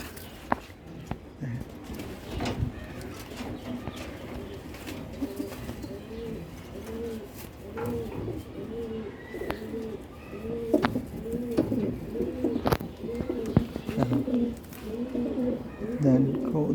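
Pigeons kept as young birds coo in a repeated, rolling rhythm, soft at first and growing steadily louder and busier, with occasional knocks and movement nearby.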